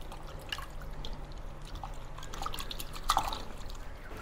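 Pickled mustard green leaves are rinsed one by one in water, making quiet drips, trickles and soft splashes, with a slightly louder splash near the end.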